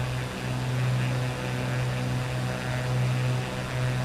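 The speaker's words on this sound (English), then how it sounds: "Got a seaplane rolling in on us there" Steady droning propeller engine of a seaplane in Microsoft Flight Simulator 2024, flying over lakes; a constant low hum with a slow swell in loudness, no voices.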